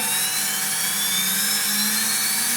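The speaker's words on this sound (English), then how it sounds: "Hit the run on my spindle." A CNC router spindle runs up to about 18,500 RPM while cutting a guitar body, giving a steady, loud, high-pitched whine with a continuous airy roar and no speech.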